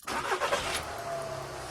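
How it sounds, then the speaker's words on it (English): A 2013 VW Golf TDI diesel engine cranks and starts after new glow plugs, a brief burst of starter and catch noise settling into a steady idle hum, close and moderately loud with no talk. "It's time to go ahead and start up the car."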